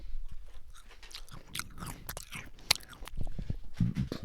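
A person chewing close to a microphone, with irregular wet crunches and smacking bites that come and go in an uneven rhythm, loud and near, with no talk over them.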